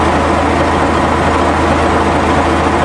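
A Fiatallis 21B bulldozer's diesel engine idles steadily while warming up, a loud, continuous low rumble with no speech.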